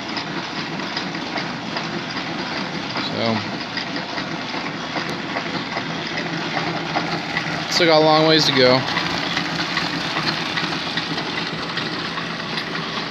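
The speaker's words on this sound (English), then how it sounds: "it's not every day you'll see a big engine lathe running a flat belt" A worn 1909 Hendey engine lathe driven by a flat belt from a motor runs with a steady mechanical whir and rhythmic clatter, a brief louder rattling burst near the middle, while someone talks over it.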